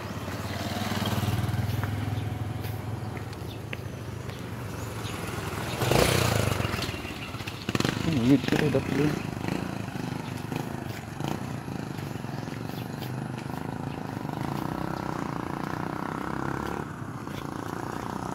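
A motorcycle engine rumbles steadily at a moderate distance, with a brief louder clatter partway through and faint background noise.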